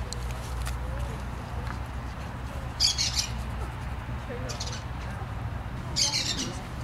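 Peacocks squawk in a garden in two or three short, shrill bursts against a steady outdoor hum, moderately near but not loud.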